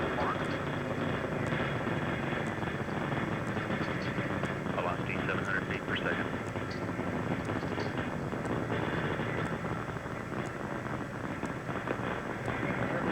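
A 1983 Challenger Space Shuttle launch during ascent as the main engines throttle down, with a continuous distant rumbling roar under mission control voices calling out the flight.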